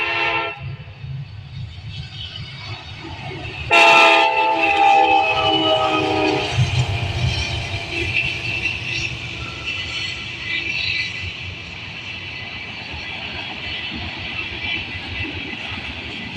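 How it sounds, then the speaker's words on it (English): An eastbound freight manifest train led by an ACE locomotive passes close by in Ohio, with a short loud horn blast early on over a steady rumble and rolling wheel noise that fades slowly. "Next up here is an eastbound manifest, which I think was Street 10, with a nice ace leading."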